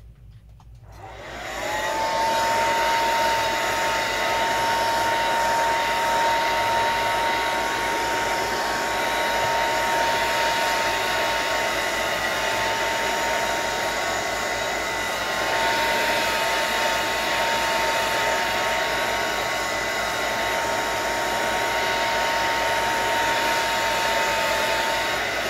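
A hair dryer blows steadily to dry acrylic paint in an art journal, switching on after a brief quiet start and then droning loud and constant, close by, for over twenty seconds.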